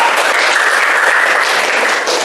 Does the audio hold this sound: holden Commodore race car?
no